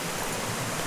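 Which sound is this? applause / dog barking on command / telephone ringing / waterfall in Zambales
waterfall in Zambales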